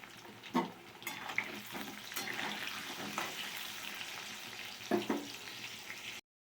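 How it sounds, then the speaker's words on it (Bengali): Potatoes frying in a pan while meat is being mixed for a mutton curry, a steady hiss and sizzle with occasional scraping stirs, close and moderately loud, no talking. "আমি এই আলুটাকে ভেজে নিচ্ছি"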